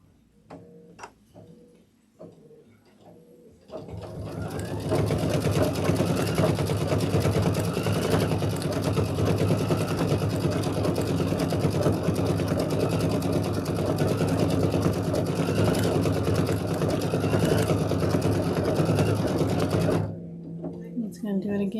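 A sewing machine stitching a window on a quilt block runs in a long, steady, fast rattling burst after a few scattered clicks, loud and close, then stops abruptly near the end.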